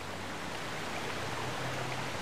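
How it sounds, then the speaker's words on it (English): Rain in Zelda: Twilight Princess, a steady faint hiss of falling water, continuous and even, with no voices. "It's raining now."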